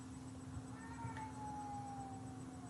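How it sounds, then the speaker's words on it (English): A cat meows insistently indoors, wanting to be let outside; one drawn-out, wavering cry rises and slowly falls, moderately loud over a steady hum and background noise. "that cat is going nuts. He wants outside."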